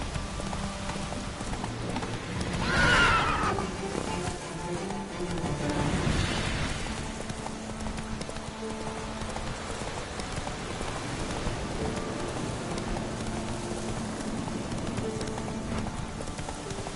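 Roach, the horse from The Witcher 3 video game, gallops with steady clip-clop hoofbeats through continuous rain, the hooves loudest early on. Rain keeps pattering on surfaces underneath and a faint whinny is heard.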